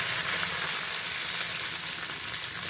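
Shallots and garlic sizzle in hot oil just after mustard seeds have popped, a steady, fairly quiet frying hiss that runs without a break and with no voices over it.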